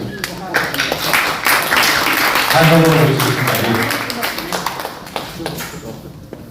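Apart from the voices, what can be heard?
audience applause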